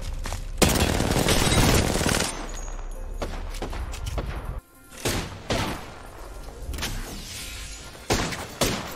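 Repeated loud gunshots and bursts of gunfire in a shooter video game, arriving in several separate volleys with thuds between them; no talk.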